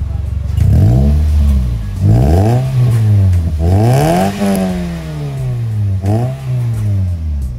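A Toyota Yaris with an aftermarket full exhaust system revs repeatedly, each loud throttle blip rising and falling in a rhythmic sequence, close and strong, with no speech.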